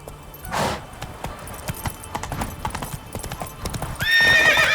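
A horse in The Witcher 3 video game gallops with quick, crisp hoofbeats, loud and close. It gives a neigh at the start and a longer whinny at the end.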